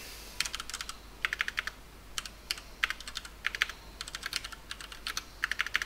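Fast typing on a computer keyboard during an online Final Fantasy trading card game team match: close, crisp clusters of key clicks come in irregular bursts with short pauses between them, and no one speaks.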